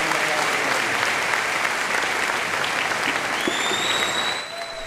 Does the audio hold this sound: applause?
yes